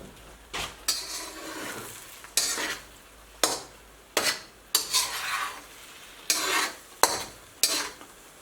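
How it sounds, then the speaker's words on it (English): Scrambled eggs with sausage stirred in a pan, a utensil scraping in repeated strokes roughly once a second over a soft sizzle, close and fairly loud, with no talking. "I'll just keep stirring them a little bit as they cook like this."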